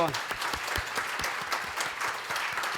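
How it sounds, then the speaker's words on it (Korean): A church congregation applauds visiting evangelists at a Sunday morning service, with dense, continuous clapping at even strength throughout. "일어나시며 인사하시면 우리 박수로 환영하겠습니다"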